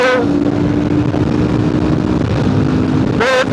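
A Kawasaki KLR650 adventure motorcycle accelerates hard on the highway, its loud, steady engine drone sustained close by, with a rising whine at the start and another quick pitch climb near the end as it pulls through the gears.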